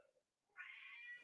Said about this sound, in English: Oh, God, this cat of mine.